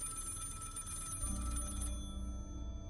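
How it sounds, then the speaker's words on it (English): A telephone bell rings faintly with a sustained metallic trill that cuts off near the end, set over a low background rumble. "the phone rang."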